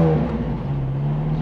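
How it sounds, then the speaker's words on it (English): A McLaren 765LT Spider's engine fires up and settles into a steady, loud, close idle hum with a strong low drone, heard alone with no talk. "But then you turn the car on."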